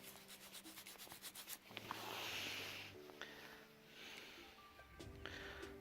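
Soft, close rubbing and scrubbing on a small dug-up button being cleaned by hand, coming in short bursts with brief pauses, faint and intimate.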